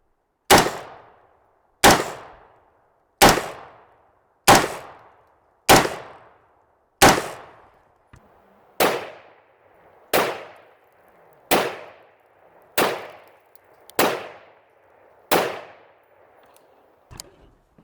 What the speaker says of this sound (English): last shot of the day, 223 from the front, compromised body armor